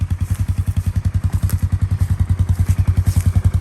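A Ranger utility vehicle engine chugging loudly and close, with a fast, even run of low thumping pulses that holds steady throughout.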